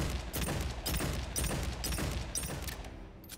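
Frontier Revolver shots in the video game Aliens: Fireteam Elite, a series of sharp, evenly spaced reports fired over dense, busy game sound.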